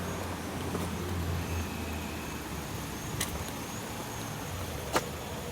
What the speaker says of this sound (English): nobody's in this car. And it's just running.